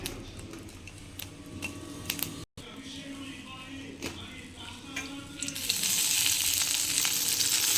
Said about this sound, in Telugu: పచ్చిమిర్చి వేసుకొని ఆయిల్ వేసి